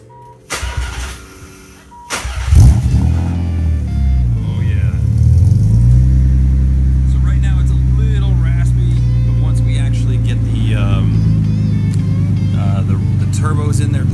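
Nissan 300ZX with a twin-turbo RB26 engine and custom MagnaFlow exhaust cranking and firing up, then settling into a loud, steady rumbling idle with light revs, voices talking over it.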